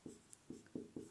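Four soft, evenly spaced scratchy strokes of a pen or marker writing during a physics lesson, quiet and close with no talk.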